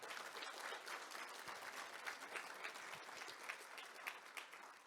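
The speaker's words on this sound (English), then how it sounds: "thank you, Krobe, for all you've done, and a round of applause for Krobe." A conference audience at an open-source security event's opening remarks bursts into steady applause, dense and continuous with no talking, heard from a distance at low volume.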